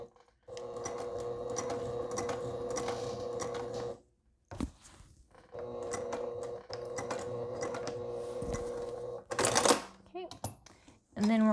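A sewing machine runs stitch bursts along the seam of a crossbody wristlet, three rapid mechanical runs separated by short pauses, with a brief clatter near the end.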